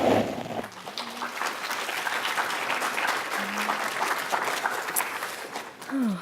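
Audience at an art lecture applauding to welcome the speaker, a steady dense clapping that fills the room and holds for several seconds, with a few murmured voices underneath.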